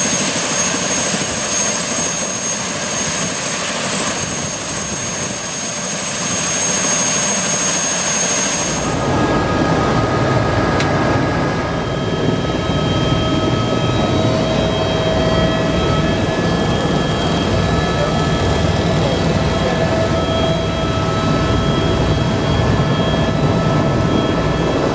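A tour helicopter over Kauai, Hawaii, lifts off with a steady turbine whine and rotor roar. The sound grows noticeably louder partway through and stays loud and continuous as it flies, with no talking.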